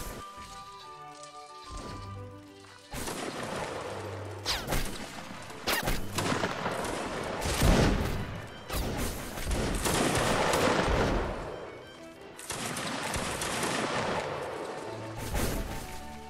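Bursts of video game gunfire: rapid automatic volleys and single shots crackle loudly and repeatedly, with brief lulls between firefights.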